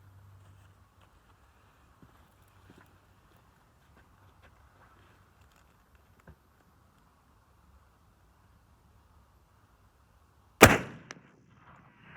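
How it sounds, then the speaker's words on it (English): A single sharp, loud muzzleloader shot fired with an 80-grain charge of Black MZ powder cracks out near the end after a long quiet stretch, followed by a brief echoing tail. "here we go, shot number 3, 80 grains black MZ."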